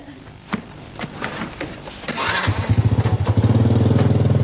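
Motorcycle engine, heard nearby: scattered knocks and clicks, then the engine catches and settles into a steady throbbing idle that grows louder and more regular toward the end.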